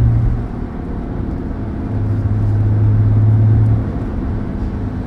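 Steady low engine rumble and road noise from inside a moving car, loud and close, with a droning tone that rises briefly then settles, no talking.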